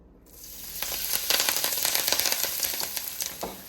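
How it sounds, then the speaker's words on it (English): Garlic, parsley, bell peppers and scallion hit a hot pot and start sautéing, a close, bright sizzle that swells quickly and crackles steadily on its own. "we're going to start to saute some of those"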